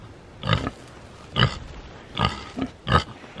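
Pigs grunting in a farmyard: four loud, rough grunts come at roughly even intervals with quiet gaps between them, close up, with no talking.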